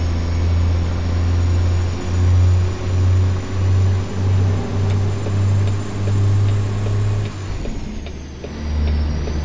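An old Kenworth K100 cab-over truck with a 6NZ Caterpillar diesel in American Truck Simulator drones steadily and loud up close, its low engine note swelling and easing in a rolling rhythm as it pulls along, with a brief dip near the end.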